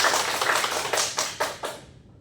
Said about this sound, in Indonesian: Beri tepuk tangan untuk Sekar anak-anak.